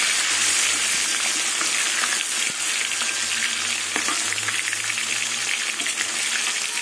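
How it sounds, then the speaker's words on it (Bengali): Fish frying in a pan with taro stem cooking nearby, giving a steady, dense sizzle that runs throughout at close range, with faint stirring clicks and no talking. "ক্যামেরার দিকে তাকাবো না মাছ ভাজছি, সেই মাছ ভাজা উল্টাবো।"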